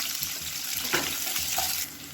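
Finely chopped onions frying in hot oil make a loud, steady sizzle, with faint stirring scrapes now and then and no voices.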